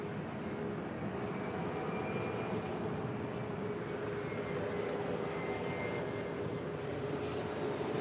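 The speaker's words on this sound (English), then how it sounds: "And this is Delta Connection SkyWest 3769. It is a flight from Oakland, California" A Delta Connection SkyWest Embraer E175 jet at LAX, a steady distant engine roar holding evenly at moderate level throughout, with no voices over it.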